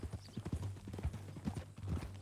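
Horse hooves clip-clop at a steady walking pace in Red Dead Redemption 2, a series of close, quiet hoof strikes in an uneven rhythm.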